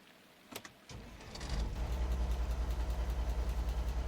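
A truck engine in the Alaskan Road Truckers game cranks after a couple of clicks and catches, settling into a loud, low, rhythmically pulsing idle that continues steadily.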